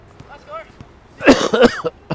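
A single close cough bursts out over faint background voices and gymnasium-like room tone during a basketball game.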